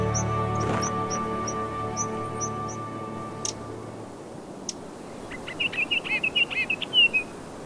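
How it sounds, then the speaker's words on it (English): High mountain birds in Taiwan's Hehuan Mountains chirp and twitter in quick high-pitched bursts, with faint calls early on and a busier chattering run near the end, over a low steady hum. "You will hear all kinds of high mountain birds singing in the cold mountain air."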